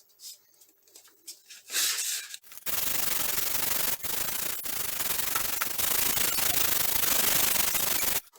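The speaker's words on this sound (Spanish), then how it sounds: "vamos a dar una terminación con la lija más fina" Continuous rough scratching of sandpaper rubbed back and forth over wood, loud and close, after a few seconds of light handling noise.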